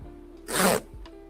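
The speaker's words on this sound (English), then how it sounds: "Did I just hear a zipper?" A single quick zipper rasp, a short loud burst of scratchy noise lasting about a third of a second, with quiet room tone around it.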